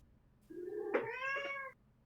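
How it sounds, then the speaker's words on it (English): A single cat meows clearly and fairly close, one drawn-out rising then falling cry lasting about a second against a quiet room. "I hear the cat. There it is."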